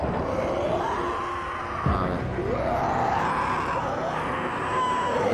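In the zombie video game Dying Light 2, several people scream and wail, with long rising and falling cries that overlap continuously, loud and close.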